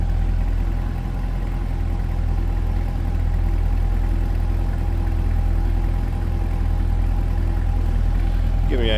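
A 2022 Chevrolet Corvette Convertible Z51 engine idles steadily with a low, constant rumble and no talking, holding an even level throughout.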